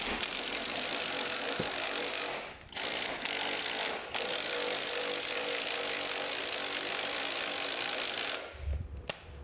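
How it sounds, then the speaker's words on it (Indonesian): An HL impact wrench drives an HL Premier 2-ton car jack, giving a loud, steady mechanical rattling whir that runs nearly continuously, with a couple of brief pauses and a short stop near the end. "saya akan gunakan dongkrak ini menggunakan impact wrench"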